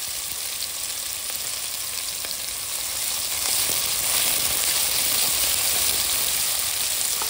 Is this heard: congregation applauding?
no